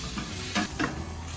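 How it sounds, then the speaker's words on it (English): Ground chili meat seasoned with salt and pepper is stirred in a pan, two quick scraping strokes rising over a soft, low sizzle. "And keep stirring it up until it's fully cooked."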